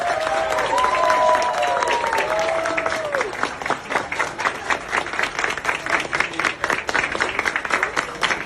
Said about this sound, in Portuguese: foi aplaudido pelos servidores